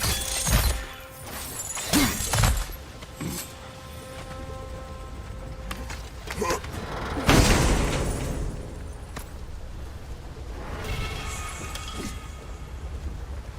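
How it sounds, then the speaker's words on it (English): A video game explosion with shattering and breaking debris, several loud bursts and crashes spread across the stretch, with crackling tails and a rumbling backdrop between impacts. "The wee bastard's about to explode!"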